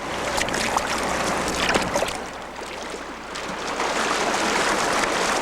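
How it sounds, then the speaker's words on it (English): A river flowing during fly fishing, a steady, close rush of moving water with fine splashing and burbling texture that swells slightly and holds constant throughout. "Something about the sound of moving water that's so soothing about it."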